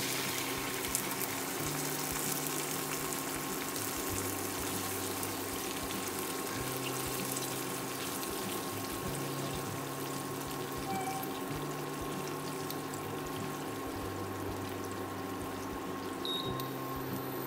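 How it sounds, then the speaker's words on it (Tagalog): Water pours steadily into a pot for a long stretch, a continuous splashing rush over a low background hum. "Tapos lagyan natin ng tubig"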